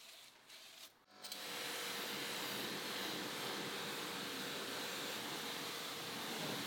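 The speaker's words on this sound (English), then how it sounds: "Even the tires should be brushed." A brush scrubs steadily over a Ferrari 488 GTB's tire during a full detail, a loud, continuous hissing rub running without pause after a brief quieter start.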